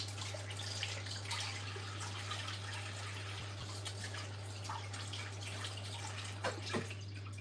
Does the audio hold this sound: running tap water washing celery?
yes